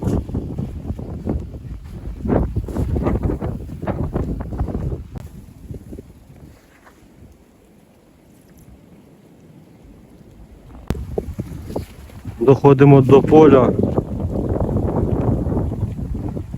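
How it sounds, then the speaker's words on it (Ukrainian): Gusty winter wind buffets the microphone in loud rumbling bursts that ease off midway and then return, with a brief voice speaking. "Вітер з усіх сторін свище."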